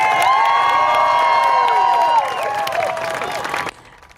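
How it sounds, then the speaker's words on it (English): A crowd at an outdoor climate strike rally in Sarasota, Florida cheers and applauds loudly. Shouts and whoops from many voices ring over dense clapping, then the noise drops off sharply near the end. "I'd really like to give another huge round of applause for our incredible speakers, Sean, Sadie, and Ellen. Can we all give them a loud cheer?"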